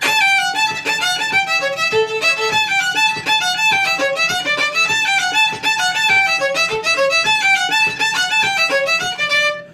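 A solo fiddle plays a lively, fast Acadian folk tune from Northeast New Brunswick with continuous bowing and quick note runs, close and loud throughout.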